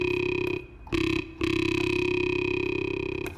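A sustained buzzy drum and bass synth tone with hard clip distortion, compression and reverb drones on, broken by two short gaps, with a faint smeared reverb tail filling the pauses.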